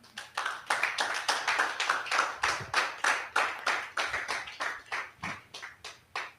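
An audience at a land surveying seminar claps for a speaker, a brisk, even round of close hand claps with a regular rhythm, fairly clear and without talk.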